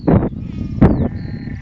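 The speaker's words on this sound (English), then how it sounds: "You have a sheep and 2 lambs. That's unusual for moorland sheep." Moorland sheep with lambs give two short, close bleats about a second apart, each loud and brief against a quiet outdoor background.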